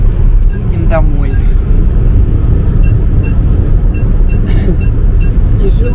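A car droning steadily along a long road, its loud, constant low rumble of engine and tyres filling the whole stretch, with occasional faint chirps and a voice speaking over it.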